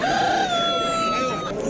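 A rooster crows at a poultry and bird market in Samarkand, Uzbekistan: one long, close, drawn-out crow over a low market murmur.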